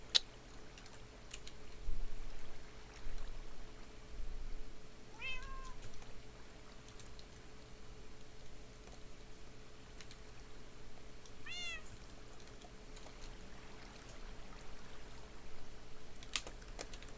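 A cat in the Minecraft video game gives two short meows several seconds apart over steady computer keyboard typing and clicking, with a faint constant hum throughout.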